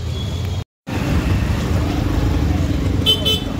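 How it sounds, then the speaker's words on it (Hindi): Dense traffic jam in a crowded market street, with a steady close rumble of engines and a brief burst of high honking near the end, broken by a short dropout. "देखो पूरा ट्रैफिक जाम है।"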